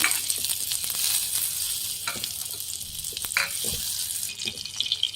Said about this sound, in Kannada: ಈಗ ಬೆಣ್ಣೆ ಹಾಕೊಳ್ಳೋಣ, ಬೆಣ್ಣೆ ಕರಗಲಿ